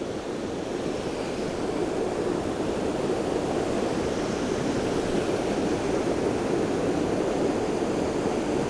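A waterfall flows down over dark rocks into a puddle, producing a continuous, steady broadband rush of water heard close and fairly loud, with no talk over it.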